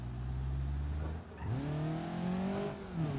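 Car engine in the driving game BeamNG.Drive, a steady drone that dips briefly then rises in pitch as another car passes close by, engine tones sweeping upward and holding, fairly loud with no talk.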